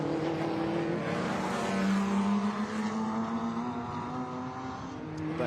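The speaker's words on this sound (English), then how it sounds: "Marino Franchitti comes through" A sports racing car passes during the Goodwood Lavant Cup race at SpeedWeek 2020, its engine a loud, steady drone that builds and then gradually fades as it moves away.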